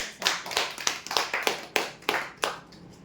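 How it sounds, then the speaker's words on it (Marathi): Applause greets prize winners at a Sunday lucky draw event, a short burst of clapping from a small crowd with uneven, separate claps, fairly close and fading out after about three seconds. "जोरदार टाळ्या होते"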